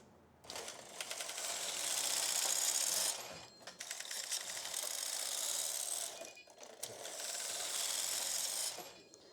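A knitting machine carriage sweeps across the needle bed three times while knitting a sweater, each pass a loud, grating mechanical rattle lasting a few seconds, separated by short pauses.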